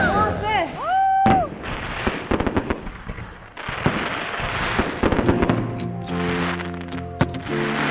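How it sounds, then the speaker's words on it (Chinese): Fireworks going off outdoors near a seaside wedding, several sharp pops and crackling bursts spread across the clip, with people talking and exclaiming over them. "烟花， 放炮了。"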